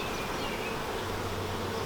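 Honeybees buzzing steadily inside a newly installed hive, a close, continuous low drone of many wings with no talk over it.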